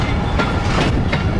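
A train rolls past close by through a small town in Shikarpur, Pakistan, giving a loud, steady rumble with rhythmic clickety-clack of the wheels that fills the whole stretch.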